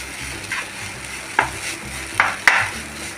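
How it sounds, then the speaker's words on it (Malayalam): Chicken chammanthi mixture of coconut and shallots frying in a pan, a steady sizzle broken by a few sharp scrapes and stirring clacks of a spoon, close and fairly loud, without talk. "ഒന്നുകൂടി ഒന്ന് ഫ്രൈ ആയിട്ടെ."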